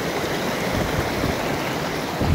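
Clear water flowing in an outdoor stream, a steady broadband rush that stays fairly loud and unbroken throughout.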